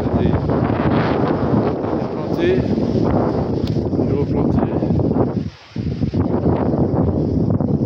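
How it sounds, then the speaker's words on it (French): Strong wind on the Larzac plateau buffets the microphone in a continuous roar, with a person speaking underneath, briefly dropping out near the end before gusting again. "on a surtout le vent"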